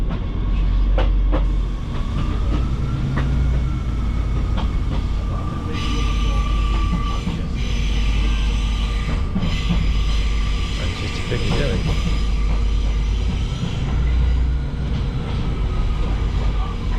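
A train at Manchester Oxford Road station, with steady low rumble and rolling noise throughout, a rising whine and brief high squeals, heard up close over continuous background station noise.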